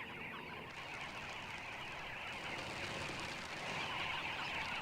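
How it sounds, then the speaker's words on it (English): A noisy flock of dozens of birds coming and going at an African waterhole, a dense, continuous chatter of overlapping calls and wingbeats that swells slightly toward the end, with no voices. "The noise and bustle of dozens of birds coming and going make it stop drinking twice."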